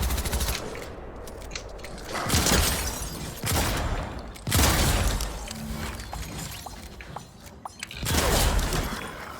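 Shotgun blasts in Fortnite Chapter 4 boom out one after another in heavy, loud bursts, roughly every second or two, with a little clatter between shots and no talking.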